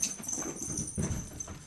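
Several dogs at home make excited yelps and snuffling noises, fairly close and continuous, with scuffling in the background.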